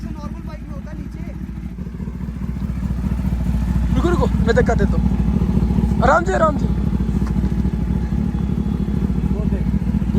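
Motorcycle engine running steadily in the background while a rider tries shifting gear with the clutch, a low continuous rumble throughout, with people talking over it.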